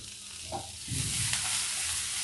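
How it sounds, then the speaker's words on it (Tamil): Onion, green chili, ginger and cumin sauté in a pan with a steady hiss and a soft stirring scrape, close and fairly quiet. "அதனால நான் வதக்குறேன் இன்றைக்கி."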